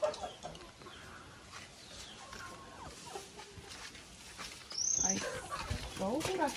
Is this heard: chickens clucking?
yes